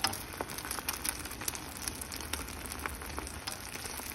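Continuous crackling sizzle of egg frying in a hot pan for a Korean egg roll, steady and close, with no voices.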